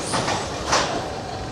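Roller coaster train at an amusement park running along its track, a close rumbling rattle with a couple of clacking bursts as the cars pass, heard alone with no talk.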